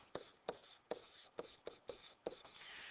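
Pen or pencil strokes on paper while a geometry sketch is drawn and labelled by hand: a close, quiet run of seven or so sharp scratchy taps at an irregular rhythm, with a faint steady scratching at the end.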